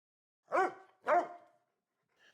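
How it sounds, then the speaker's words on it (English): Two sharp barks from a dog near an old dog hole by an ancient skeleton site, clear and distinct, about half a second apart, followed by quiet. "I keep hearing dogs barking"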